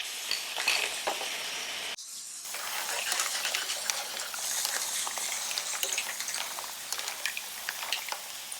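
Mussels and clams cook in a pan with onions and garlic, giving a continuous soft sizzle with small shell clinks and rattles scattered throughout, close and fairly quiet.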